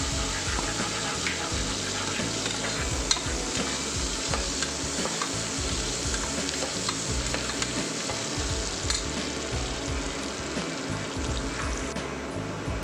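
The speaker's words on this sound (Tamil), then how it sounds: "எண்ணெய் சூடு எரிச்சு ஆனியனை போட்டுறேன். ஆனியன் நல்லா ரோஸ்டடாக வரும்." Onions sizzle steadily in hot oil in a pan, with a continuous close crackle and occasional stirring scrapes throughout, no voices.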